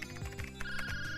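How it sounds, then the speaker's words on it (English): A phone ringtone plays close and clear, a short melodic electronic tune with a sustained high tone, heard alone without talking. "Not another phone call."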